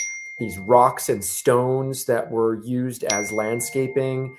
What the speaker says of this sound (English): You may hear my phone blowing up right now.